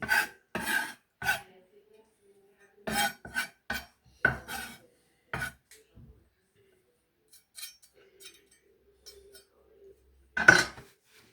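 A knife finely mincing onion on a cutting board gives bursts of quick, close chopping taps separated by pauses.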